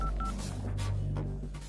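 A telephone keypad dials a rapid string of short DTMF tones against a low background hum in a Telugu-language action film scene.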